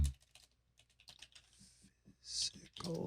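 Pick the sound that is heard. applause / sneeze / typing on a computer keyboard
typing on a computer keyboard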